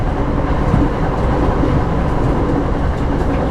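A train runs on its rails at night, giving a loud, steady rumble and rattle that continues without a break, with no voices over it.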